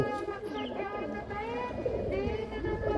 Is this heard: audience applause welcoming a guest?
no